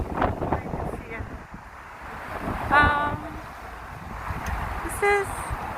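Strong wind buffets the microphone outdoors on a street in Gangnam, Seoul, in the morning, a continuous low rumble that swells and eases, with faint brief chirps and distant voices underneath.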